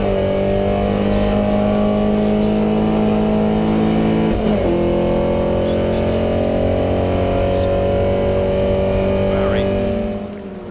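Porsche 356 and Jaguar race cars accelerate hard off the start at the Goodwood Revival, with loud, sustained multi-engine roaring that holds steady and close throughout before easing at the very end.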